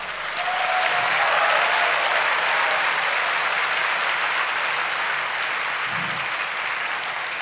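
Large audience applauding at a Chinese life insurance congress; a thick, sustained wash of clapping from a big hall crowd that swells early and holds steady for several seconds.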